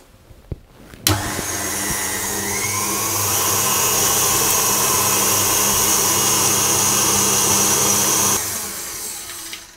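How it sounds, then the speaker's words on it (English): An electric whisk beats eggs with vanilla extract until thick and pale for a vanilla Yule log sponge, giving a steady, close motor whir that runs unbroken for about seven seconds before stopping. "I'm going to whisk them together until they're nice and thick."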